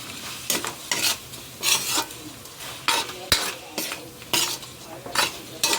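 Native chicken tinola ingredients stirred in a pot: a dozen or so rhythmic scraping strokes at an even pace, close and fairly loud, with no talking.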